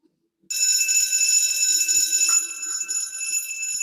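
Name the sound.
alarm ringing in a video game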